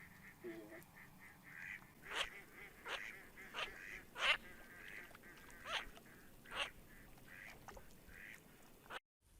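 Ducks on the water quack repeatedly outdoors at night during a duck hunt, a string of loud, nasal calls at irregular intervals over a steady ambient background, moderately close.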